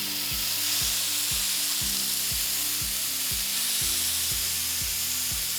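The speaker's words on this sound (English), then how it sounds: "So we're gonna put those chicken souvlaki right down on our pan." Chicken souvlaki skewers sizzle loudly and steadily in a hot pan, a dense continuous frying hiss with a low rhythmic pulse beneath it and no talking.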